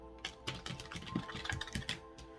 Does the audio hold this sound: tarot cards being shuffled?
yes